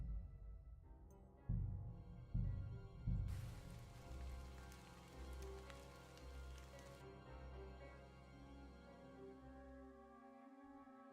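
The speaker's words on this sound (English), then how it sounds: "It's raining though." Steady rain falling in the medieval game Kingdom Come: Deliverance 2, a soft continuous patter with a few heavier low thumps early on, no talk.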